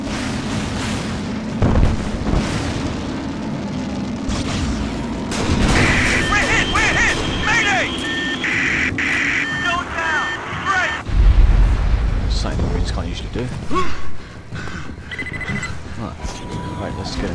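Gunfire and explosions in the Alien vs. Predator video game, heavy booms and bursts of shooting under loud shouted voices, with a siren-like tone in the middle and a deep blast about two thirds through.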